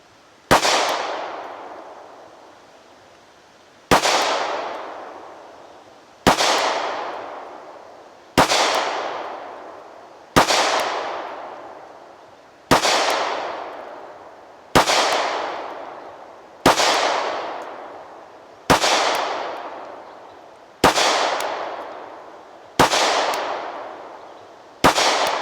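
A Springfield Hellcat pistol fires during Mantis X10 dry-fire-style training, twelve sharp, loud single shots spaced about two seconds apart, each with a short ringing decay, no talking.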